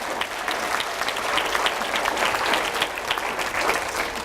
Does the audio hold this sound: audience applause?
yes